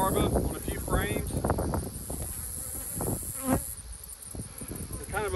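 Honeybees buzzing around an open hive in a cow pasture apiary as frames are inspected: a constant close insect hum with bees whizzing past, while a person talks over it.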